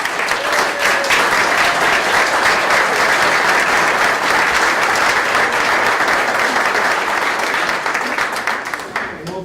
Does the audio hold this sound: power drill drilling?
no